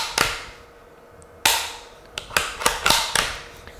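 A CBC 8122 .22 bolt-action rifle has its trigger released, giving a sharp mechanical snap, followed by several quick metallic clicks and knocks from handling the action, close and distinct with no talking.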